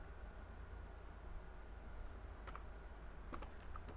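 Faint computer keyboard typing in a quiet room: a few soft, scattered key clicks followed by a sharper pair of taps near the end, like pressing enter, over low steady background hiss.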